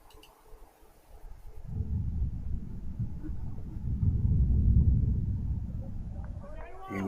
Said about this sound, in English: as we hear that booming thunder in the background